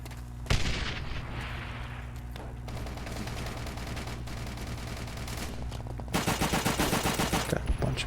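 Gunfire from a BAR rifle in Call of Duty: World at War on PS3, with a dense, ongoing rattle of shots and a burst of louder rapid fire toward the end over a steady game backdrop.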